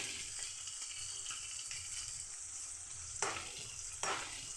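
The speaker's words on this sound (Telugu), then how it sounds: "పచ్చిమిర్చి వేసుకొని ఇలా టూ మినిట్స్ వీటిని కూడా ఈ ఆయిల్లో ఫ్రై చేసుకోవాలి" Green chillies fry in hot oil with onions, a steady close hiss and crackle of sizzling broken by a couple of brief stirring knocks, no voices.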